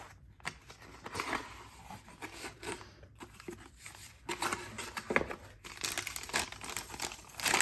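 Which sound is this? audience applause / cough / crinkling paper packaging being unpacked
crinkling paper packaging being unpacked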